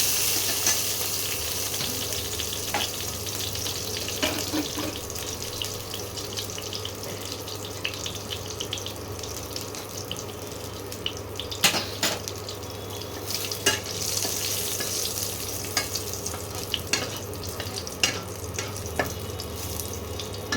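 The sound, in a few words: whole cardamom, cloves and cumin tempering in hot oil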